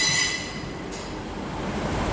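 Class 156 diesel multiple unit in blue livery rolls past at Nottingham station, a steady rumble of wheels on rail with faint high squeal, fairly close and continuous.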